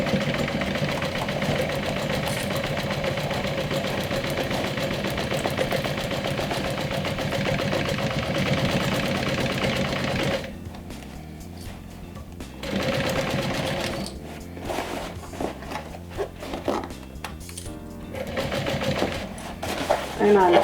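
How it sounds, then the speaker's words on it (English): A sewing machine stitching a small backpack hums loudly and steadily for about ten seconds, then continues in shorter, uneven bursts with pauses, while a voice talks over part of it. "And I'm sewing all around."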